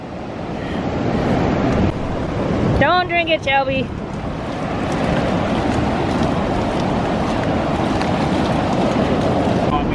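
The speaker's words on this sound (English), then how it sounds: "we made it to the ocean. It's windy" Ocean surf and strong wind on a beach, a continuous loud rushing wash with breaking waves throughout, while a person speaks briefly over it partway through.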